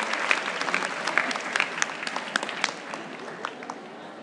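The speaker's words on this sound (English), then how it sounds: "A round of applause, please." An audience applauds a speaker being welcomed on stage at a financial talk, steady dense clapping from a crowd that holds for several seconds without voices.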